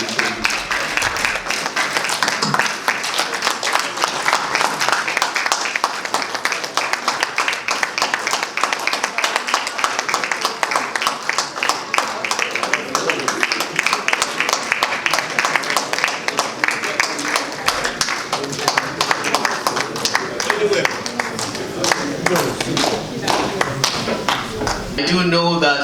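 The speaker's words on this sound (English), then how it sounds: "Please keep clapping until we got to get to the podium." An audience at an institute event claps and applauds steadily for the whole stretch, a dense, sustained patter of many hands that tapers slightly at the very end.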